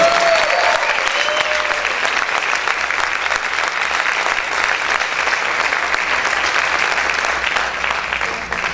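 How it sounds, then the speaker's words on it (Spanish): A church congregation claps loudly and continuously in praise during a Spanish-language sermon, a sustained wash of many hands with faint voices threaded through. "¿Cuántos pueden aplaudir más fuerte al Señor?"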